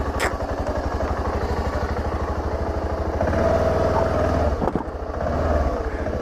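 A motorcycle rides a rural dirt trail with its engine putting out a steady, loud, throbbing rhythm close up. The revs lift partway through, then a brief clatter and dip before the engine settles again.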